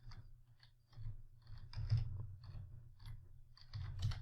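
A search keyword is typed into simulation software on a computer keyboard, giving a short series of separate, crisp key clicks with small pauses between bursts, near and fairly quiet, with no one talking.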